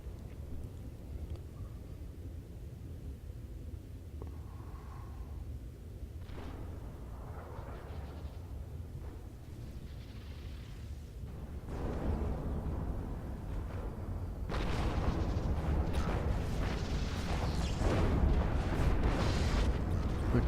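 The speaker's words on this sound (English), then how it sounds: "Okay, I can hear lots of explosions." Explosions rumble in the strategy video game Planetary Annihilation: Titans, a distant, muffled series of booms that grows louder and denser toward the end, with no voices.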